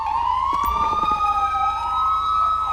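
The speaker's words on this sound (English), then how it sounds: "So these are the Los Angeles County Sirens, apparently" Los Angeles County police sirens in GTA5 with the LSPDFR mod: a loud, close wailing siren whose pitch slowly rises and falls, over a low engine rumble, with no talking.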